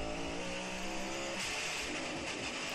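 A NASCAR stock car racing at Le Mans with a destroyed gearbox, its engine sound dense and harsh throughout, steady and loud with rough grinding texture and no pauses.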